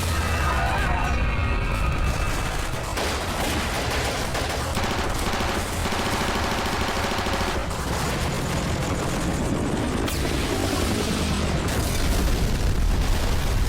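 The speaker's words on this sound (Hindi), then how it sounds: "सर, उस क्राफ्ट ने तो वेपन फायरिंग शुरू कर दी और हमारे सारे ग्राउंड यूनिट को तबाह कर दिया।" Alien craft weapons firing in a sci-fi movie battle, dense rapid bursts of gunfire mixed with booming explosions, loud and continuous.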